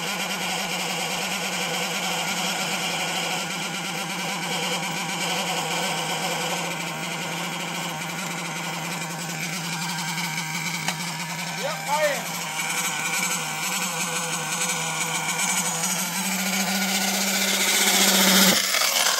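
A Losi 8ight-T RTR nitro RC truck engine buzzes continuously at a moderate distance, rising in pitch and loudness toward the end, with brief voices in the background.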